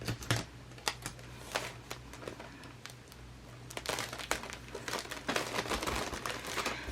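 Clear plastic wrap crinkling as rolled socks are taped, faint close crackles and sharp rustling bursts, scattered at first and growing busier toward the end.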